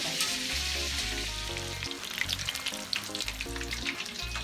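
Chicken wings for buffalo wings fry in a pan, a steady loud sizzle and crackle with brief pops, alone and close, with no talking.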